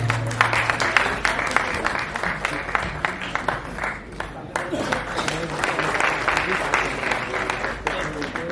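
An audience breaks into sustained applause at a seated talk event, dense steady clapping filling the room for several seconds.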